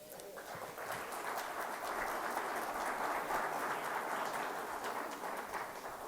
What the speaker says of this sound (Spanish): un fuerte aplauso a Luis Ángel Mera